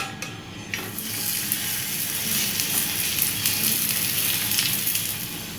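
Ragi adai frying on an oiled dosa griddle: a loud, continuous close-up sizzle that swells after the batter lands, with faint utensil clinks and no talking.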